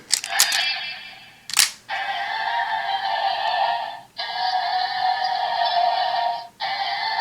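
Electronic toy sword sound effect from a Yo-kai Watch DX Youseiken: a couple of sharp clicks, then a looping bright synthetic standby tune playing in repeated bursts with brief gaps.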